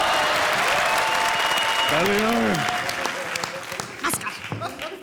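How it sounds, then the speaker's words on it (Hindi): Loud audience applause fills the whole clip, dense clapping that starts to thin toward the end, with a brief rising and falling vocal tone partway through. "अरे तालियां, तालियां।"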